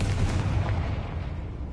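A Confringo blasting spell going off in Hogwarts Legacy, a heavy low rumbling boom that rolls on steadily and loudly for under two seconds.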